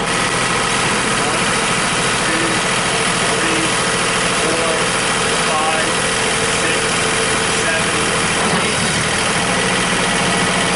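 A John Deere 1050 tractor engine runs at a steady idle, a loud continuous rumbling drone with no breaks throughout.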